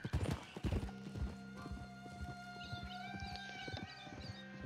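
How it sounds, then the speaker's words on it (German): Horse hooves clip-clop steadily while riding through the dark in the video game Red Dead Redemption 2, a close, even rhythmic trot over a sustained tonal music bed, with a horse whinny briefly heard. "Und schön durch die Dunkelheit reiten."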